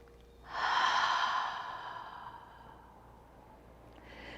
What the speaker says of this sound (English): come upright with a big deep breath